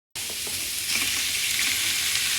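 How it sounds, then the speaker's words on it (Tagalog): Onions and mushrooms, canned rather than fresh, sautéing in butter for a veal blanquette, giving a steady, close sizzle and hiss with faint stirring clicks, no voice over it. "Now, igisa na natin yung natirang sibuyas. Lagyan natin ng butter."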